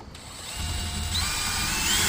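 A power drill drives a screw into a cover for air conditioner line sets, a steady close motor whine that holds for about two seconds without talk.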